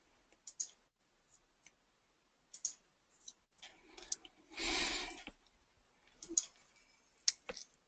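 Sparse, close computer mouse clicks, including quick double-clicks, tick through a quiet room with a short burst of rustling noise midway.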